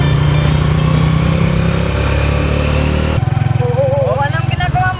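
Motorcycle engine running steadily while riding toward Pundaquit in Zambales, a loud continuous hum that drops in pitch partway through, with people talking over it.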